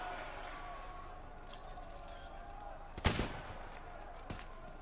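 A .338 Lapua rifle shot in the video game Escape from Tarkov Arena, one sharp mid-distance report with a short echo over steady game ambience, followed by a fainter pop.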